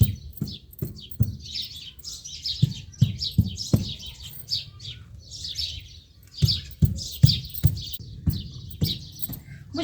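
Chickens scratching and pecking in a village garden bed of plants, with repeated soft clucks, chirpy calls and scratchy patter close by, in irregular bursts.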